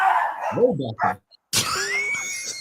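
Human voices imitate dog barks in a dog pound chant, giving a few short, close woofs before a sudden louder burst of noise that continues under talking.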